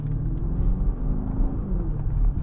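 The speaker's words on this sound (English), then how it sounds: "This is like a true V8 sound." A 2024 BMW X7 M60i's V8 rumbles steadily from inside while driving, a deep continuous low burble with no voices.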